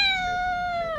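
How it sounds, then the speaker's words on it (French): A kitten gives one clear, drawn-out meow that holds steady, then drops and breaks off at the end. It is close and loud, with no other sound. "Ah ouais, c'est un chaton."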